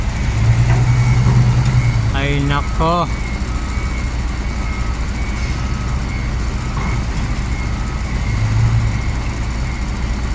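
Trucks idle at a container yard with a steady low engine rumble, someone talks briefly over it, and a short horn-like tone sounds twice in the background.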